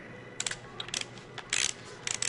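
A torque wrench ratchets while tightening a cylinder head bolt on a 7 ISL Cummins engine, a series of sharp close metallic clicks in short irregular bursts.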